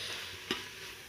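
Dry silver fish curry being stirred in a pan, a faint steady sizzle with a single quick scrape of the spoon midway, no speech.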